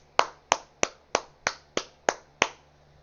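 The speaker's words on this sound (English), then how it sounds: "Guys, I just clapped my hand." Eight sharp single hand claps in a bedroom, evenly spaced about a third of a second apart, each crisp and close with a short room decay.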